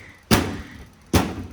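A Kobalt workbench drawer shuts twice onto an Olsa tool box liner, each a short dull thunk with a brief rattle, close and loud, about a second apart.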